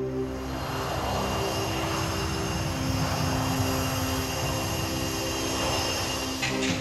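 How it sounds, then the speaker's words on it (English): A passenger plane taking off on a flight to Paris gives a loud, sustained engine roar with a steady droning hum that holds throughout, heard alone without talk. "56 additional passengers board the plane, and it departs for Paris."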